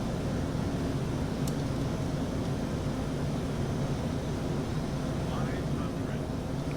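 A Citation CJ3+ business jet cruises in Microsoft Flight Simulator 2024, its steady broadband engine and wind roar filling the cabin at an even, unbroken level throughout.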